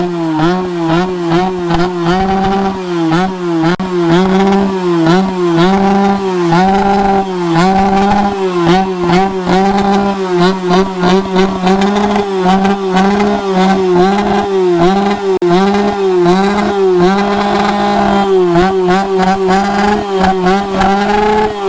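A loud Yamaha RX motorcycle revs hard at a loudest-bike contest in Bangalore, reaching around 125 decibels. The engine throbs through repeated rising and falling blips for about twenty seconds, close and with no voices.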